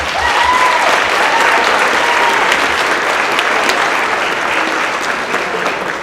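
At a company celebration, an audience gives loud, dense applause with some cheering, sustained for several seconds without letup.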